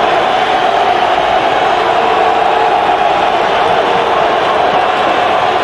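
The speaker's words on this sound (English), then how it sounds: "The crowd getting very loud" A loud roaring football stadium crowd at a Division 1-AA semifinal between Appalachian State and Montana, a continuous dense wall of cheering and noise with no breaks.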